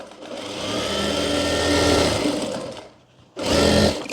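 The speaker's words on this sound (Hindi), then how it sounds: "हम यहाँ पर और एक सिलाई लगा लेंगे।" An electric sewing machine stitches a trouser seam in a fast, loud, whirring run of about three seconds, pauses briefly, then starts a second short burst of stitching, heard up close without talk.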